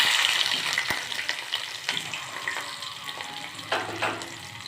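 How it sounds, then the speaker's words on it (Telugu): Onion, garlic, curry leaves and dry chilli sizzling in hot oil for tempering, a close crackling fry with occasional sharp pops and stirring scrapes. "కొంచెం ఆయిల్ తీసుకొని దీంట్లో ఉల్లిపాయ, వెల్లుల్లి రెప్పలు, కరివేపాకు, ఎండుమిర్చి, తాలింపు గింజలు వేసి వేయించుకోవాలి."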